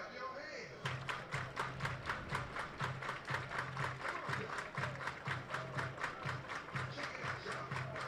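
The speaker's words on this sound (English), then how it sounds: "clap your hands." Baseball crowd at an Idaho Falls Chukars versus Grand Junction Rockies game clapping in a steady, rhythmic unison beat, loud and sustained across the stands, with a low drum-like thump pulsing underneath.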